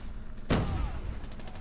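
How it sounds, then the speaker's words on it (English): A single sharp gunshot burst from an enemy player in COD Mobile, loud and close, trailing into a short decay over steady game background noise. "That's him shooting at me."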